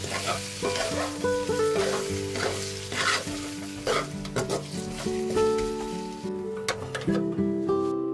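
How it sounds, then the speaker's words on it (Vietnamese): Beef oxtail stir-fries in a pan with seasoning, a steady sizzle broken by repeated scraping and clinking of a utensil against the pan, close and fairly soft. "Và mình nêm vào nửa muỗng canh bột nêm và mình xào trong 4 phút nha."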